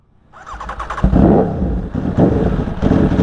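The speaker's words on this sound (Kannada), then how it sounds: "ಗಾಡಿ ಆನ್ ಮಾಡೋಕೆ ಲೈಟಾಗಿ ಥ್ರಾಟಲ್ ಕೊಡು" Motorcycle engine, a Triumph Daytona, cranking over and catching, then revved with light throttle in several rising blips, loud and close, with a steady idle between the revs.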